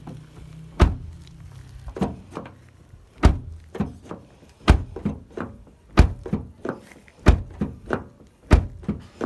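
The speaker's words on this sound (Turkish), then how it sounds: "Şimdi kapıyı kapatıp açalım." A car door is slammed shut and reopened again and again, giving about a dozen solid, close thunks with lighter latch clicks in between, in an evenly spaced rhythm with no talking.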